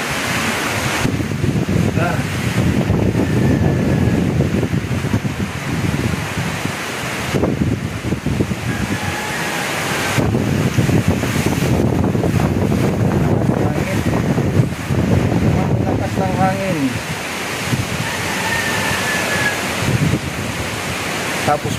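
Typhoon Uwan batters Ligao, Albay with steady, loud wind and rain roaring as a broad continuous wash, swelling and easing in gusts throughout, with faint voices now and then beneath the storm.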